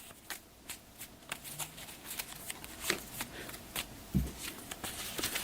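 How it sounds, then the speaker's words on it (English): A deck of playing cards gets a side shuffle by hand, a close series of quick riffling rustles and soft slaps in uneven bursts, with a firmer tap near the end and no speech. "We'll give this one more little side shuffle."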